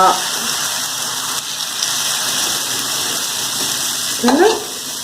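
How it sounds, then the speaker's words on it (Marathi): Leftover idli batter poured onto a griddle over a low flame sizzles for dosa, making a steady, soft hiss throughout, with a brief voice rising over it near the end. "तव्याच्या मध्ये पीठ घाला हळू हळू हळू पसरत जावा गॅस छोटच ठेवा"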